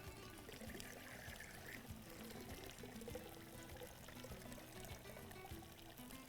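Water drains and trickles steadily off soaked rice and lentils, a continuous close pouring wash with no clear breaks and no talking.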